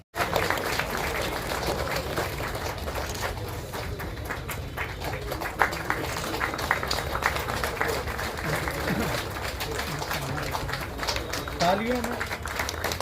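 Applause from an audience at a two-day district agricultural mechanisation fair held in an agriculture building, a dense steady patter of clapping lasting throughout, fairly close and continuous.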